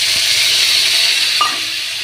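Sliced onions sizzling in hot oil in a pan already seasoned with panch phoron after prawns were fried, a loud continuous frying hiss with a brief stir partway through.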